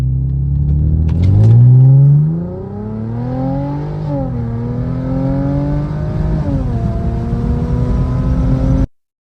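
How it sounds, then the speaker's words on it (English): A Mercedes 4MATIC all-wheel-drive sports car engine revs up loud and close, pitch climbing steadily through the gears with brief dips at each shift, a strong, continuous acceleration with no talking. "the way the engine delivers it, it's such a torquey engine"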